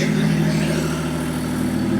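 BMW M57 diesel engine swapped into a Nissan Patrol, running with no exhaust fitted, giving a loud, raw, continuous low throbbing drone close by with no pause.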